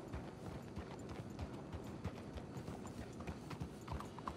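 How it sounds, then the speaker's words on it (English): Horse hooves clip-clop steadily in a video game, several horses walking at a close, even pace with a faint whinny hinting in the background. "Let's hitch your horses up ahead."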